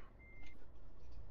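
A truck reversing sounds a single steady electronic reverse beep over a low engine rumble, with road and traffic noise continuing around it.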